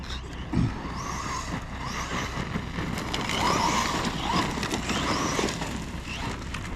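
A Losi Tenacity TT Pro radio-controlled truck whines steadily as it drives outdoors, with a high motor buzz that rises and falls and faint background noise, with no talking.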